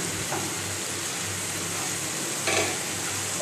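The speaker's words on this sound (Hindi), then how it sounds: "चलें इसको भूनते हैं फिर मिलते हैं।" Spiced masala being fried for an egg curry, a constant dense sizzle under faint low kitchen rumble, with a brief louder burst of crackling partway through and no speech.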